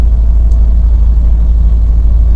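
Loud, steady low diesel rumble from a KamAZ or Dongfeng truck engine with its exhaust engine brake engaged, a dense continuous drone holding even for the whole stretch with no voices.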